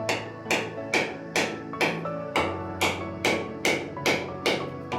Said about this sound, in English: Hit coconut with hammer.